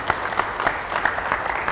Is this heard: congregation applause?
yes